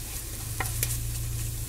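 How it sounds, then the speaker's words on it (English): Garlic sautéing in oil in a pan for shrimp scampi, a steady close sizzle with a couple of light stirring clicks, no talking. "Saute this for just a minute. Just until it is so fragrant."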